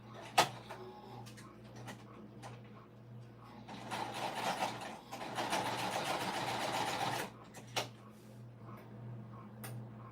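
A home sewing machine fitted with a walking foot stitches in a steady whirring burst of a few seconds, with quiet clicks and handling noises before and after, fairly faint.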